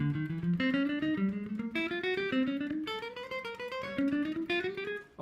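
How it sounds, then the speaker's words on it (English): Single notes on a guitar played as a spider walk finger exercise with string skipping, a steady run of clean picked tones stepping up and down across strings, close and alone with no talking. "I'm also gonna add string skipping patterns to the same exercise"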